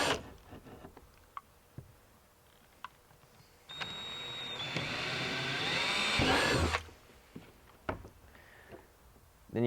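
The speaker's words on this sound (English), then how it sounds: "drill the holes right on the dots that you just marked" A power drill whirs in one sustained burst of about three seconds, drilling holes in a kayak to fit accessories, high-pitched and steady, with scattered clicks and handling noises before and after.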